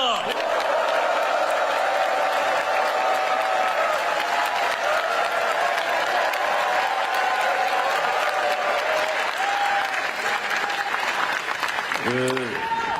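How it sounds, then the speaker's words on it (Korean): Large audience at a provincial event in South Jeolla welcoming a prime minister with sustained, dense applause and cheering for about twelve seconds, loud and continuous, before a voice speaks at the very end. "열렬한 환호와 박수를 부탁드립니다."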